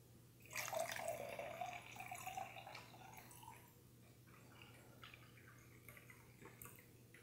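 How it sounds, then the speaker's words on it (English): Water is poured into a drinking glass for a water lens experiment, a short bright gurgling splash that rises and then trails off into faint trickles and drips, close and fairly quiet, with no talking. "All I'm going to do is fill this glass with water"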